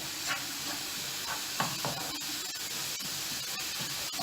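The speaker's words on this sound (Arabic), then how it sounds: "غادي نضيف الملح وكنحركها." Onions being stirred in a frying pan after salt is added, for a Moroccan mini baguette filling: a steady close sizzle with soft intermittent scraping strokes of stirring, no talking.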